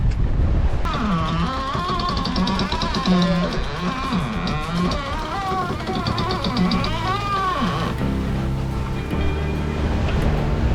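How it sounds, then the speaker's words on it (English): A sailboat pounds through rough seas in wind near 40 knots between Greece and Turkey, giving a constant loud roar of wind and rushing water with music playing over it. "For the next couple of hours, the wind increases and we are pounding through the waves."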